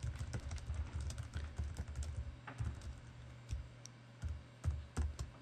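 Quick bursts of typing on a computer keyboard, close and fairly soft, with uneven runs of key clicks separated by brief pauses.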